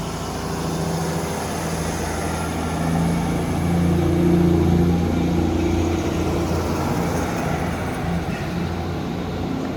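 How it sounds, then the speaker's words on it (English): A Great Western Railway diesel train pulls out of Par station in Cornwall on its run to Newquay, a steady engine drone that swells and then holds, heard from the platform with no talking. "departing out now is the 1428 Great Western Railway service from Par to Nuki"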